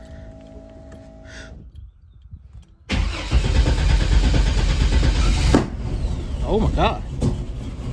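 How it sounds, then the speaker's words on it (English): Turbo Buick engine with newly installed ignition coil and spark plugs cranks, catches and runs roughly, with sharp backfire pops near the end; someone speaks briefly under the engine noise. "What's going on there? It's backfiring."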